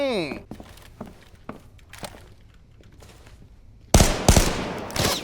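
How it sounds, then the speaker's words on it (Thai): Distant gunfire in a first-person shooter game gives scattered sharp pops early on, then a loud close burst of shots near the end, with talk running over the top. "คนคนคนคนมันยิงกันอยู่ข้างหน้านั่นน่ะ"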